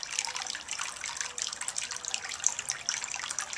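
A garden water fountain trickles and splashes steadily on its own, a soft continuous burble with small droplet spatters, fairly close and gentle.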